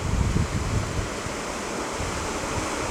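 A brown, muddy river rushes beneath a bridge on Lake Superior's western shore in Minnesota, heard as a continuous broad wash of flowing water, with gusts of wind buffeting the microphone near the start.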